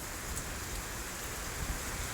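Steady rain pattering and dripping through a coconut-leaf roof onto a surface, a dense even hiss with no voices.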